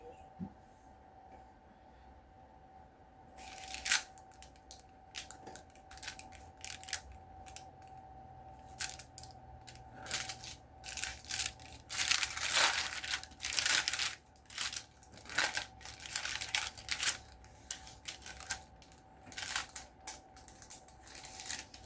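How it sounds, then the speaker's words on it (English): Knife slicing through a pan of homemade brownies, giving a run of crisp crunching and scraping strokes that grow denser midway, close and fairly loud against a steady faint hum, with no talking. "all you have to do is pull these down and cut them"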